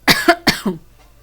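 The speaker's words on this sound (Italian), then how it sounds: "continuo con questa cavolo di tosse" A woman with a cold coughs close to the microphone, a quick run of four sharp, hoarse bursts followed by quiet.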